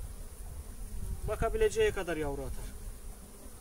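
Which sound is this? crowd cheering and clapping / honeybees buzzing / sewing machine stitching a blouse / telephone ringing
honeybees buzzing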